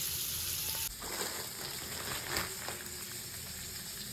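Vermicelli going into milk boiling on the stove for payasam, a steady close bubbling hiss with a brief shift as it is added.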